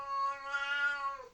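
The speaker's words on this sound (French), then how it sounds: "désolé, c'est mon chat." A pet house cat lets out a single long, drawn-out meow, close and clear, rising slightly and then trailing off at the end.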